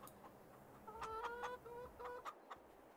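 A hen in Farming Simulator 22 clucks in a short series of loud, close squawking calls over a steady low background hum.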